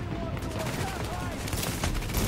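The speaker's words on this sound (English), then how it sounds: "so I'm just gonna shoot at him for a little bit." Rifle gunfire in The Division video game: dense, overlapping automatic shots crackling continuously under a busy mix of game sounds, moderately loud with no clear gaps.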